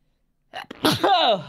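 A single sharp human sneeze, a quick intake followed by a loud close burst that trails off into a breathy vocal tail, after a moment of silence.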